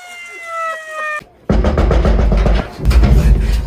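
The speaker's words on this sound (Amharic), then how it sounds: "የድሮ አምቡላንስ እንዴት ይጮሃል? እስቲ አሁን ልንሰማ ነው።" Old-style ambulance siren: a brief steady wailing tone, then a loud, dense rush of noise with pulsing bursts that fills the rest of the stretch.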